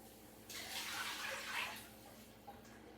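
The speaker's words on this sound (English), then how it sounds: "So I'm going to put in vegetable broth first." Vegetable broth poured into a soup pot for Cajun shrimp soup, a soft rushing pour lasting about a second and a half, then tapering off, quiet and close with no talking.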